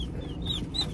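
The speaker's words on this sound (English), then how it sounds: "I just grabbed all their Cornish cross" Cornish cross chicks at a farm supply store give soft clucks and high, thin peeps over a low hum of background noise, close by, with no talking.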